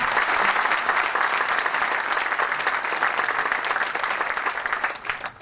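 Loud, sustained applause from a large crowd, thick continuous clapping that slowly eases off toward the end.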